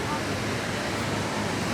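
A waterfall at Disneyland park rushes in a steady, dense wash of falling water that holds even and unbroken throughout.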